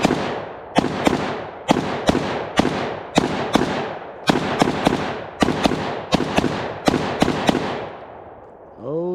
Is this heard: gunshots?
yes